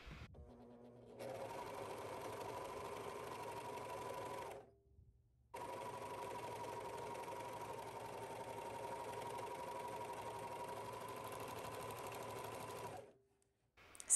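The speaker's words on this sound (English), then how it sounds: "Sew from one pin to the next, and that will show you exactly how much you need to stretch the neckband in between the pins." A sewing machine stitches a neckband onto a gown, its steady motor whir running evenly in two long passes split by a short pause, close and without talk.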